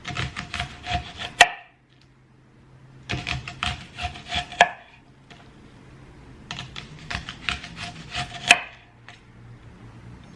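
A kitchen knife roughly chops vegetables for a beef stew on a cutting board, three bursts of rapid, crisp knocks separated by short pauses, each burst closing with a sharper hit, close and alone.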